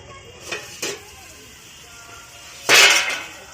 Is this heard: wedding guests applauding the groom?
no